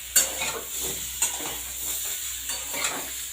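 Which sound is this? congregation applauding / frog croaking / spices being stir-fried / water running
spices being stir-fried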